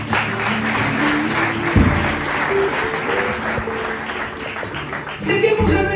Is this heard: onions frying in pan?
no